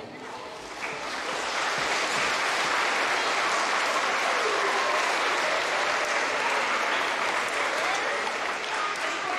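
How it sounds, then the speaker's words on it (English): Sustained applause from an audience at an elementary school Veteran's Day program for second and third grade students, rising quickly after the first second into a dense, even roar of clapping that holds steady to the end. "Let's give them another round of applause for all of our second and third graders."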